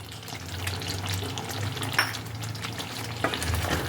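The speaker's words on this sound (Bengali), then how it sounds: "কাসুরি মেথিটাকে এবার আমি গ্রেভির সাথে ভালো করে মিশিয়ে নেব" Kasuri methi being stirred into a stuffed Kashmiri aloo dum gravy, a continuous bubbling sizzle with soft scraping stirs and a low steady hum beneath, close, no voices.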